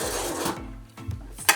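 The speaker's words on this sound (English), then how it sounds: "Now we need to whisk it up." Whisking cupcake batter in a bowl by hand, a steady scraping, rasping rub with a few brief clinks of the whisk near the end, close and fairly quiet.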